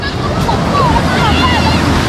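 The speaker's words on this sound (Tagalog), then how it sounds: "Lakas ng alon mga brother, oh" Strong waves roll and crash at a saltwater beach in Pangasinan, a loud, dense wash with wind buffeting the microphone.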